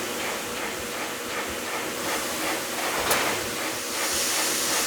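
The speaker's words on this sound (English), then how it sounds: "it's put inside this machine called a shin press, which squashes that knuckle so that it's smooth and flat" A shin press machine squashes a metal knuckle flat for glasses frames, giving off a continuous loud hiss and rushing noise like a train, with one brief sharper burst midway.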